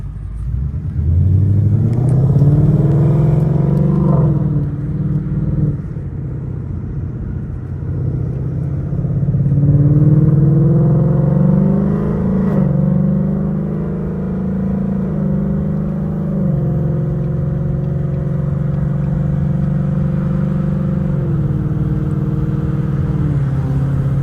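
An S550 Mustang GT with a new engine rumbles while driving, its revs climbing and dropping through several downshifts, a steady loud engine drone with rising and falling pitch throughout.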